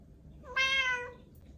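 A single clear cat meow, rising and falling over about half a second, close by in a quiet home kitchen, with no talking over it.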